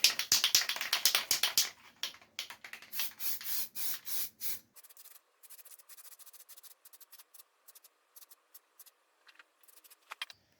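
Short hissing bursts of an aerosol spray coating a CNC-machined billet handbrake bezel for a Ford Escort MK1, loud and close at first, then fading to faint scattered clicks and rustles.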